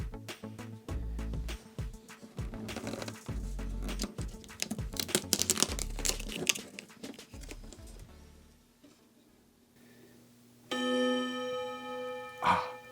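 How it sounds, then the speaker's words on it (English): Antique New Haven Clock Company mantle clock, a thrift store find, sounding with rapid ticking and mechanical clatter that fades toward quiet, followed near the end by a sustained ringing chime tone, close and moderately loud. "It's a mantle clock from the New Haven Clock Company."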